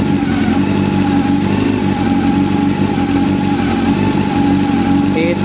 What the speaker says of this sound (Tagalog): So umikot yung ating radiator fan.